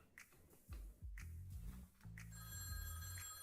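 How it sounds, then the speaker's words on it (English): A telephone bell rings in quick repeated bursts, fairly faint and heard alone without talk, with a tonal ringing layer building toward the end. "Is that the phone?"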